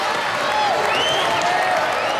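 Loud, dense crowd noise fills the arena at a Robot Wars robot combat event, steady cheering and applause continuing throughout without a break.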